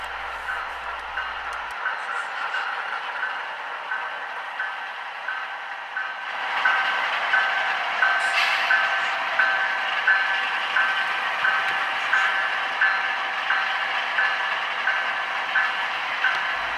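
An Atlas SCL Spirit of 76 model locomotive runs on a dirty piece of track with a steady motor whine and a rhythmic clicking from the rails, rising slightly louder partway through and continuing without talk.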